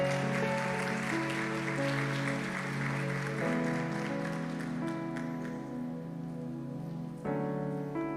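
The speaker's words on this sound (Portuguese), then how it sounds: "Vamos aplaudir ao Senhor." A church congregation applauds at a worship service, a broad, rain-like wash of clapping that stays fairly even throughout, with music tones sustained underneath.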